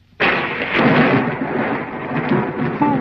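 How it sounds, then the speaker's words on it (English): A sudden crack of thunder opens into a loud rolling rumble with rain, filling the short stretch without any voices. "Looks like we're in for a little rain."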